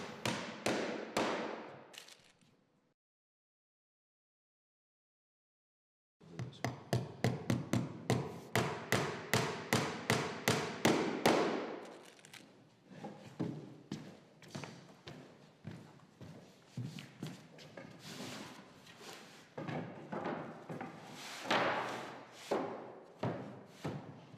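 Copper nails hammered through a crosspiece into wooden boards, a rapid series of sharp, evenly spaced hammer blows near and loud, with a pause, then more irregular knocks and taps.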